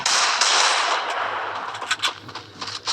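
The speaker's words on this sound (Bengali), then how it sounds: "আমি এখন ডেজার্টিকল দিয়ে তাদের হেডশট মারব।" Desert Eagle pistol fire in the Free Fire mobile game, an opening burst of loud, dense gunfire that fades, followed by a few sharper scattered shots.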